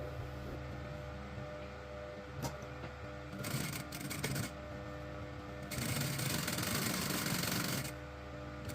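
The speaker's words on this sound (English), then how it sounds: "Sew all the way around, sewing on top of the lining to keep it in place." A sewing machine stitching all the way around the lining of a gift bag being turned into a handbag, running in steady bursts with short pauses between, fairly close and without talk.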